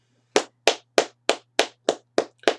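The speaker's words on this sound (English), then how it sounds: "I'm clapping my hands." One person claps their hands eight times at a slow, even pace, each clap sharp, close and isolated against a quiet background with a faint low hum.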